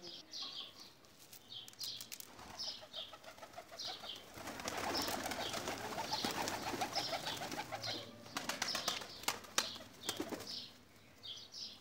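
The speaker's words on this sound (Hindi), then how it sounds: "बहुत प्यारे कबूतर हैं जी," Pigeons flutter and flap their wings in repeated bursts, with soft bird calls mixed in throughout, fairly close by.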